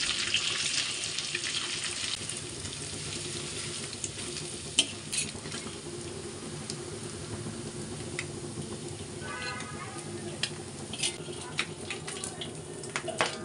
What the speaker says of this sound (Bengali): এখন আমি ছাঁকনি চামচ দিয়ে এটাকে খুব ভালো করে একদম ম্যাশ করে নেব।